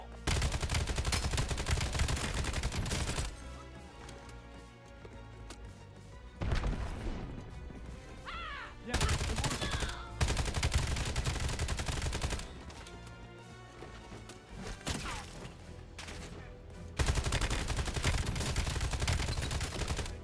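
Gunfire in the Black Ops 7 video game campaign: dense bursts of automatic shots and loud impacts in repeated stretches, broken by quieter gaps with game effects and music, all fairly loud and close.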